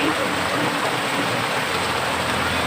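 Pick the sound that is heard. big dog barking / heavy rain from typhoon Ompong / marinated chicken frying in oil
heavy rain from typhoon Ompong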